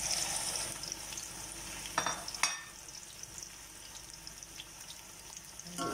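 Chicken breast sizzles and fries in a pan with sautéed garlic and onion for a noodle dish, a steady crackling hiss with a couple of sharp clatters from stirring and no talking.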